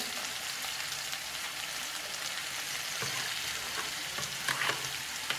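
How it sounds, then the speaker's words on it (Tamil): Mixed vegetables for a Pongal kulambu sauté in a pan with a steady, close crackling sizzle and a few scraping stirs near the end. "இந்த காய்கறி வதங்கிடுச்சு."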